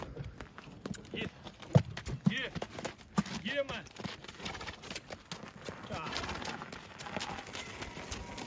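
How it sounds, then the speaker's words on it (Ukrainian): Hooves of a harnessed draft horse clop in a steady rhythm on a hard surface, fairly faint, with people talking over them and some rattling in the background. "Запрягли Гартелда"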